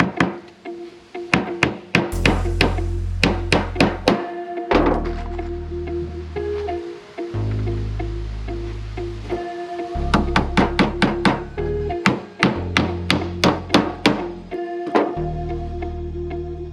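Galvanized common 4D 1.5-inch nails are hammered into 3/4-inch wood while a rabbit nesting box is assembled, giving bursts of sharp, ringing close-up blows in quick series with brief pauses between runs.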